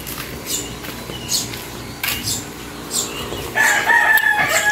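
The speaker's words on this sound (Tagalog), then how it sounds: "Mga huni ng ibon tsaka manok na ng gising." A rooster crows in the distance, rising over quiet outdoor ambience, with birds chirping faintly around it.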